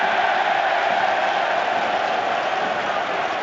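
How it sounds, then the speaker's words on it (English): Steady football stadium crowd noise, a broad sustained roar of cheering and applause from fans at a Scottish league match, constant and fairly loud throughout. "That's what the cheering in the background's for."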